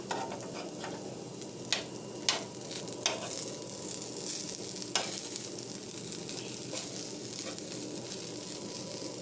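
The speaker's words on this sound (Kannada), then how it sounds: "ಇದು ಹಾಗಲಕಾಯಿ ಫ್ರೈ ಆಗಿದೆ ಈಗ ಈ ಥರ ಫ್ರೈ ಮಾಡ್ಕೊಳ್ಳಿ" Bitter gourd frying in oil in a pan, a continuous close sizzle broken by several sharp clicks and scrapes as the pieces are turned, no talking.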